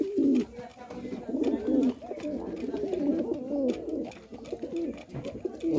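A Giribaz pigeon coos repeatedly in a low, throaty rhythm, close and fairly loud, with overlapping calls and a slight hum of background noise.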